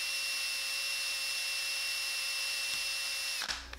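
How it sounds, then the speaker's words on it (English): Small power drill boring a pivot hole through the wings of a handmade kingfisher bird lure: a steady high-pitched whine held for several seconds, close and loud, then cutting off abruptly. "Drilling hole for the pivot point on the wings."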